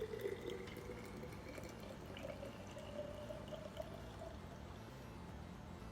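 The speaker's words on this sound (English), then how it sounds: "So we'll take a cup of distilled water and add it to the bottle." A cup of distilled water pours into a bottle for DIY rosemary lemon foaming hand soap, a soft, steady trickle that rises slightly in pitch as the bottle fills, heard alone and fairly faint.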